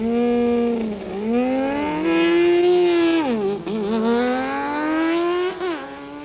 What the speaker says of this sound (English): Here we have a pair of crotch rockets. Barry McMillan, tower side in the Suzuki 750. Fred Jones on the far side with a Suzuki 1100.